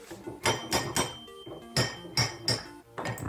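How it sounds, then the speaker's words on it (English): Hammer blows strike a steel axe head to seat it onto its wooden handle, about seven sharp ringing knocks at an uneven pace, close and clear with no voices. "put the axe head on to fit it, hit it with a hammer, it leaves some marks"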